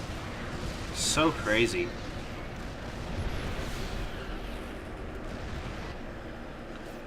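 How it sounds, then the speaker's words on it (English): StarCraft siege tank artillery fire, a quick volley of booming shots and a whistling streak early on, followed by a low battle rumble under a commentator's voice. "Just the power of the siege tank there."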